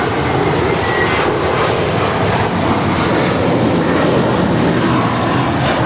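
A Spirit airliner takes off from runway 25 right at LAX, its engines roaring as a loud, steady, broadband rumble that holds without a break.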